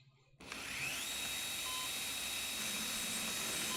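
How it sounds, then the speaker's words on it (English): High-pitched whine of a drill boring into a human skull in a clinical procedure room, starting abruptly after a brief quiet moment and then sustaining a steady, loud mechanical tone to the end. "they're drilling her brain"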